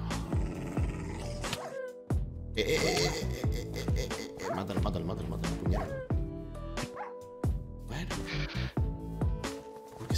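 Summoned dogs in a modded video game bark and yip repeatedly in quick, overlapping bursts, close and loud, with some whimpering, while a player talks over the fight.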